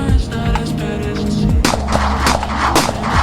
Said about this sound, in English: Oh, I hear shots going